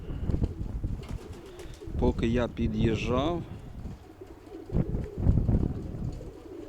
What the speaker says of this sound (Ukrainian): Купа голубів літає